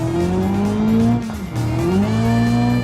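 Heavily modded Autobello Aria driving in BeamNG, its engine revving loud and steady with a dip and recovery midway, tires faintly squealing, music from the radio running underneath.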